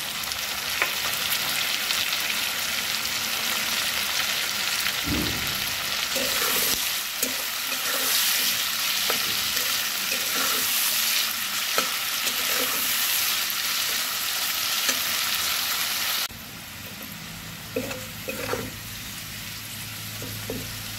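Chopped potatoes fry in a pan for a Bengali drumstick-leaf dish, hissing steadily while a utensil scrapes and taps through repeated stirring; the sizzle drops noticeably quieter near the end.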